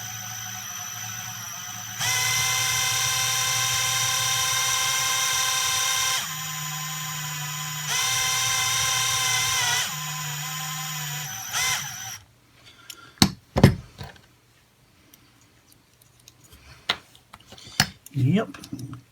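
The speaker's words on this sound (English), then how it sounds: "we're just going to have to drill out the axle mount to a slightly bigger size" A small drill bores out the axle mount hole on a die-cast Lesney Bedford milk float toy chassis, a close high-pitched whine in sustained bursts that stops and restarts, then sharp clicks and handling noises as the drilling ends.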